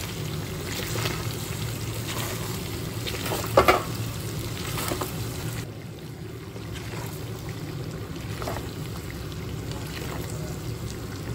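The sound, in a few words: pork curry with spices cooking in a pan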